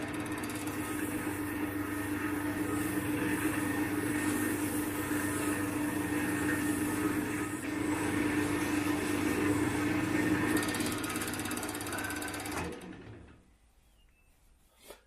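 A lathe spins an acrylic pen blank at slow speed, about 1000 RPM, producing a steady close mechanical hum and rumble with sanding friction, then winding down to near silence at the end.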